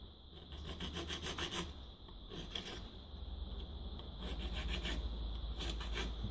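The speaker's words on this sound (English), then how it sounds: "I want to grind that or sand that away, file that away so that I can't see where that join is made" Hand file rasping across the join of a silver pendant set with boulder opal, a steady close run of scraping strokes in uneven rhythm with no talk.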